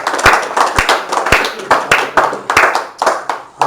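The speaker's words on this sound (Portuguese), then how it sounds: "Você pode dar um aplauso ao Senhor Jesus?" A church congregation claps in a steady, sharp rhythm during a Portuguese-language Christian service, loud and close, with faint voices underneath.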